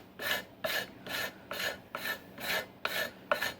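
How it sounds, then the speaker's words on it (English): A belt sander with roughly 120-grit abrasive works a custom motorcycle pulley cover, giving a close, rhythmic rasping that pulses about twice per second with no voices. "The belt sander is about 120 grit right now. We'll clean this up."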